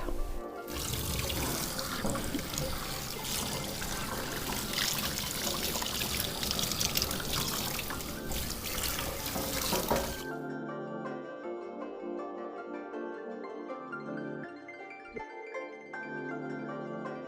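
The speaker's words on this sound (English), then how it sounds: "I finished rinsing the conditioner off" Running water rinsing conditioner off a Cavoodle puppy during grooming, a steady loud spray for about ten seconds, then cutting off to quieter dripping and small handling noises.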